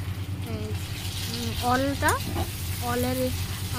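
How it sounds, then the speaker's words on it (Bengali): Onions, garlic and chilies fry in a pan with a steady, close sizzle, while someone speaks over the cooking. "লঙ্কা এসবকে একটু ভালোভাবে ভেজে নেব"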